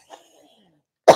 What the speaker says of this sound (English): I've been trying so hard not to cough.